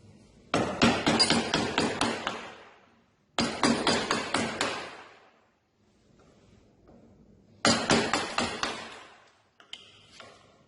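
Sharp mallet blows drive a chisel into a wooden workpiece in three close bursts of rapid, evenly spaced strikes, with pauses in between and a few lighter taps at the end.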